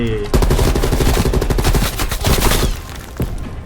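Heavy automatic gunfire in Call of Duty Black Ops Cold War, loud, rapid bursts rattling almost continuously for nearly three seconds, then thinning out to a few scattered shots.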